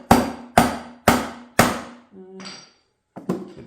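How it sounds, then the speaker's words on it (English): Four sharp, evenly spaced knocks of a wooden block hammering on a plastic part of a Peg Perego John Deere ride-on toy ground loader, close and loud, then a short softer scrape and one last tap. "gently hammer with a block of wood or something on the other side"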